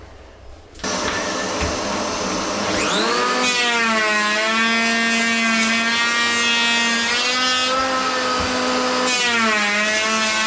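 A power planer shaving 5 mm off the edge of a wooden door starts with a sudden jump and spins up to a loud, high motor whine. Its pitch sags and recovers as the blade bites into the wood.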